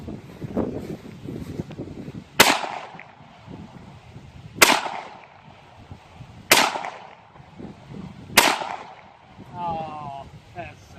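Four sharp, loud gunshots from a Ruger SR1911 .45 ACP pistol ring out at roughly two-second intervals outdoors at a bowling ball target, with quiet talk and rustling between shots.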